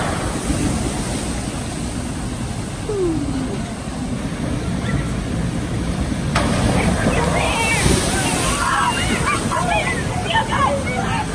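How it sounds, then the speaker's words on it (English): Rushing, sloshing water with a big splash and spray as a log flume boat drops into a pool at Dollywood theme park, people talking and shouting over the churning water. "the park's log flume ride, so a rather unusual drop"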